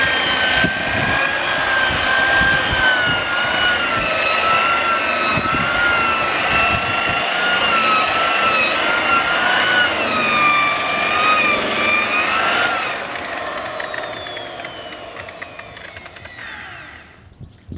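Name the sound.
drill with lambswool polishing head polishing glass fibre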